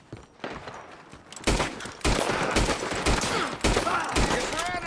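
Gunfire in the video game Red Dead Redemption 2 comes as loud, rapid bursts of shots that crack in quick succession and build into a dense fusillade over a few seconds.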